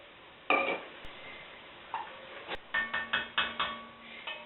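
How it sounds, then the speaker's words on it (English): A spoon scraping crusty browned bits from the bottom of a pan while deglazing for French onion soup: a sharp initial scrape, a few scattered scratches, then a quick run of rhythmic scraping strokes, close and fairly clear. "I'm going to go ahead and just deglaze this pan using my spoon to scrape up all these nice crusty bits in the bottom of my pan"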